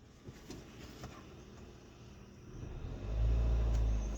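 A car engine idles quietly with a few faint taps, then is revved, rising into a loud, deep rumbling roar that holds steady at the end.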